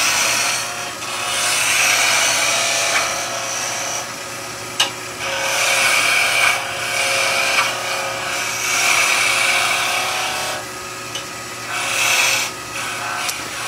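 Wood shavings rasping off a turning Christmas nutcracker as a woodturning chisel cuts on a lathe, heel and toe in turn, with a steady scraping hiss that swells and eases in bursts close by, no talking.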